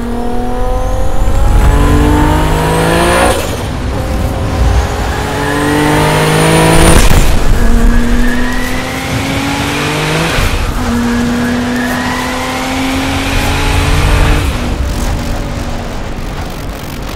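Turbocharged Nissan R32 Skyline GTR accelerating hard through repeated gear changes, each rising engine pitch cut by a shift, loud and close with tire noise and no talking.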